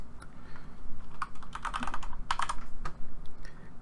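Fast typing on a computer keyboard, a close, crisp run of key clicks lasting a few seconds with uneven rhythm, no voices.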